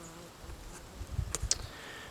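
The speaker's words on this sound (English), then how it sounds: "Like a black bee of some sort, but it's really a fly, I believe." A black, bee-like fly buzzes faintly outdoors among wild asters in Louisiana. The drone is soft and low and swells briefly as it passes close.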